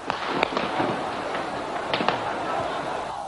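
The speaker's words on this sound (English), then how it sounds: "The noise of gunfire rose from all over the center of Peking." Distant gunfire in archival footage from central Peking near Tiananmen Square, scattered sharp cracks in an irregular series over a noisy crowd-and-street background, with a voice faintly present.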